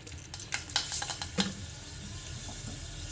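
Fenugreek seeds dropped into two spoons of hot oil in a kadai give brief crackling sizzle bursts, close and fairly quiet, with faint stirring scrapes between them and no talking.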